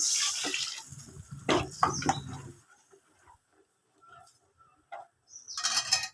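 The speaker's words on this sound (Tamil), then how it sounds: "மிக்சி ஜாராக கழுவி விட்டுக்கிறேன்" A mixer grinder jar is rinsed out with water, giving irregular splashing and sloshing bursts up close, then quieter scattered drips and clinks with short pauses, and a final splash at the end.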